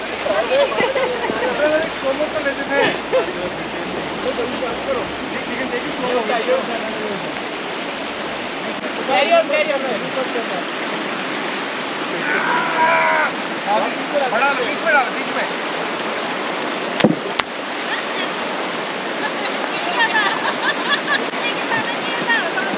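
A small stream in Kazakhstan rushes and splashes continuously close by, a steady broadband wash with occasional brighter spatters and faint voices in the background.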